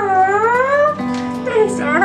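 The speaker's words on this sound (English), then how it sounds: "That was a dirty cat." A cat meows in a long, wavering, rising-and-falling cry that fills most of the two seconds, loud and close, with a second shorter call near the end.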